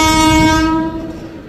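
A loud KRL commuter train horn blares with strong harmonic tones while the train rumbles nearby at Manggarai Station's upper level, Jakarta, the horn fading after about a second.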